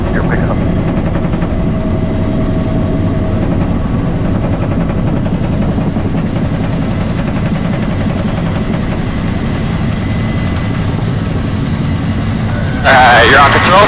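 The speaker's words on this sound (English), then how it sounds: "helicopter 98 Foxtrot approaching from the west, crossing runway 24, passenger pickup" A UH-1B Huey helicopter flying in to land, its turbine whine and dense rotor drone loud and steady throughout, with a brief sharper burst near the end.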